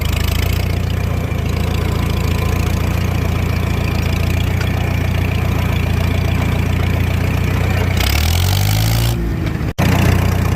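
A Farmall H tractor engine runs steadily and loud while driving out of a field, a continuous close rumble that briefly shifts and cuts near the end.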